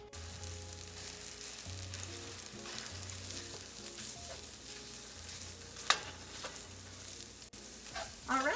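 Crumbled Beyond Meat plant-based burger patties sizzle steadily in a hot pan, a continuous close frying hiss with a few sharper scrapes or pops near the end and no talking.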